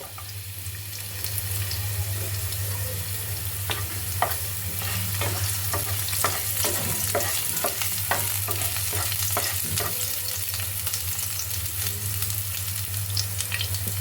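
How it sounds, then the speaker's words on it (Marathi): Cut green chillies dropped into hot oil sizzle and spatter steadily in a pan, a continuous frying hiss with crackling pops and a low hum beneath, no talking. "तेल गरम झालेलं आहे. आपण त्यामध्ये आता कापलेली मिरची घालणार आहोत."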